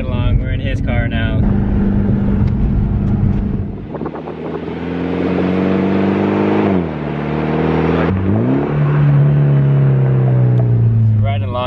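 A steady low exhaust drone from a Mitsubishi Lancer Evolution X fitted with a test pipe, cruising, rising and falling slightly with engine load, with a person talking over it.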